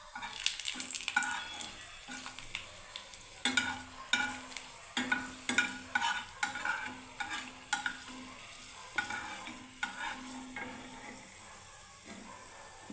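Two dried red chillies fry in hot oil in a pan, giving a continuous near sizzle with repeated bursts of stirring and scraping from a utensil, in an uneven rhythm and with no talk.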